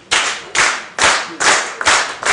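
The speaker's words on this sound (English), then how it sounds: "I'm gonna need you guys just to start clapping" Rhythmic hand clapping from a stand-up comedy audience, five loud, evenly spaced claps about half a second apart, close and clear with no talking.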